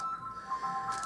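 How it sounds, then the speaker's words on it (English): A mobile phone goes off with a bright repeating electronic ringtone melody, fairly faint and short, playing alone in a quiet room with no talking. "please excuse my phone going off."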